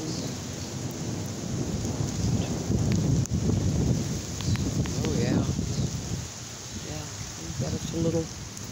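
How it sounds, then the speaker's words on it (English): Steady rain falls on a container vegetable garden with peppers, a dense wash of close patter under a low rumbling backdrop, while a person speaks partway through. "wind and a little storm, or rain rather. It's not a storm, it's rain."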